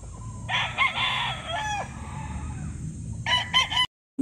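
A rooster crows loudly and close by, the long call rising and falling for about a second and a half, then another crow starts near the end before the sound cuts to silence, over a low rumbling background.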